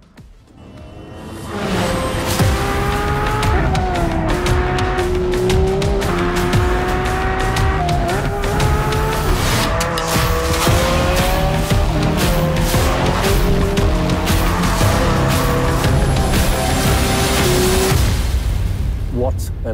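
A Porsche lapping the Nürburgring Nordschleife, its engine roaring loud and continuous with rising and falling revs through gear changes, tires squealing through corners, and a voice talking over it.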